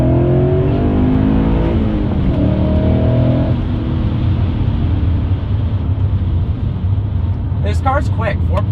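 A BMW E39 with a naturally aspirated 4.9 liter V8 and muffler delete accelerates hard in second gear, its loud, raspy engine note rising in pitch with a steady, continuous roar; a voice comes in briefly near the end.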